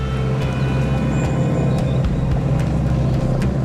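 A Range Rover Sport's engine climbs an off-road trail, a steady, loud, low rumble with bumps and knocks from the terrain throughout.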